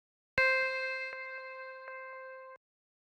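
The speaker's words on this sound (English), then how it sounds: "So very simple bell kind of pluck sound." A single bright, bell-like synth pluck rings out cleanly and sustains for about two seconds before cutting off, with faint tonal pulses along its tail.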